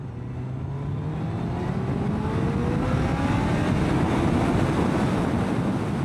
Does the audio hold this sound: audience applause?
no